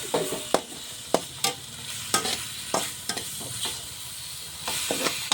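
Pasta fries in a pan as it is stirred, with sharp spatula clacks and scrapes landing at uneven intervals over a steady close sizzle, and no one speaking.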